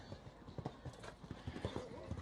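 Hoofbeats of an athletic, forward-moving horse during a show jumping round at an equestrian park, heard as a steady rhythmic clip-clop of repeated impacts at moderate distance, with faint background noise.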